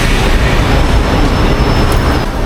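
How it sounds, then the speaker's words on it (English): A monorail train in Kuala Lumpur rumbles loudly and close by, a continuous dense roar of wheels and motor with no pause across the whole moment. "The monorail."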